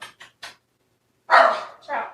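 A dog barks indoors at another dog walking past: three short, quick yaps followed after a pause by two louder, fuller barks, close by and alone.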